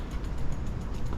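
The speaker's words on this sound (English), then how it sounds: "so I'm sorry that you can hear my bike making clicking noises" Rhythmic clicking from a bicycle being ridden through a city neighborhood garden, a quick steady ticking close by, running continuously with no talk.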